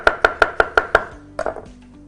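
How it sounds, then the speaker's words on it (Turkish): Six quick, evenly spaced knife chops strike a cutting board up close, chopping mushrooms, followed by a few softer clatters. "Şöyle son kalan mantarımı da doğrayayım"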